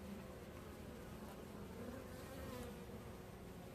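Honeybees hum steadily inside an open hive box, a dense, continuous buzzing close by with no break across the stretch.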